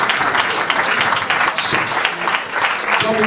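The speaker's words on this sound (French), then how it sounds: "On applaudit pour lui" Dense, continuous applause from an audience at a gathering, a broad wash of many hands clapping at once with faint voices mixed in, steady and loud throughout.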